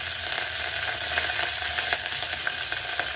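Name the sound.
mustard seeds, cumin and curry leaves sizzling in hot oil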